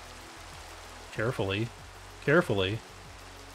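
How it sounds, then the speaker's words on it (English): Heavy rain falls steadily in Minecraft survival gameplay, a constant hiss of downpour running through the whole stretch while someone talks briefly over it. "it's pouring and pissing down rain like crazy now"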